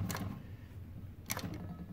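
Juki DNU-1541S industrial sewing machine stitching through several layers of a cloth dog collar, a low steady motor hum with a few brief rattling bursts, quiet and close.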